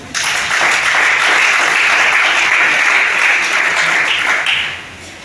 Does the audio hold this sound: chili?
no